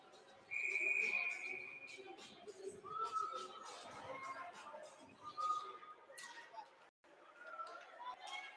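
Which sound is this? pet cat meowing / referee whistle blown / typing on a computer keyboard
referee whistle blown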